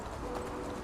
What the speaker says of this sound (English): Still got this horse, I'm half tempted just to steal it.